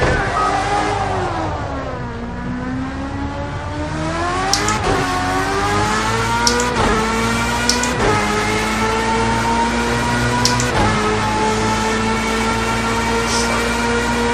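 A Project CARS 2 race car pulls out of the pits at Monza with its engine droning loud and close, the pitch rising and falling through several gear changes and a few sharp shift clicks.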